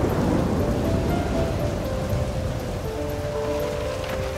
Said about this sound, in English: It's raining heavily outside.